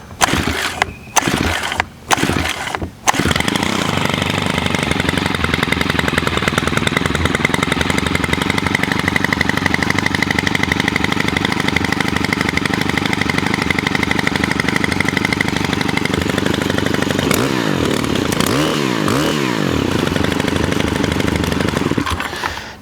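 A Kawasaki KMA135R gas power head is pull-started with a few sharp cord yanks, then the small engine catches and runs loud and steady, buzzing close by with a brief sputter near the end.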